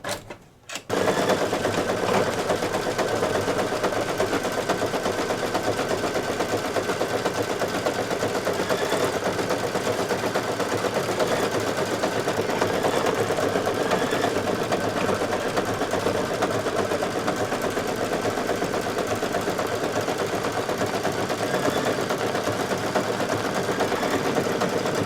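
An embroidery machine stitches the beard placement line on a Santa table runner, a fast steady needle chatter that runs loud and unbroken for about twenty-five seconds after a brief start.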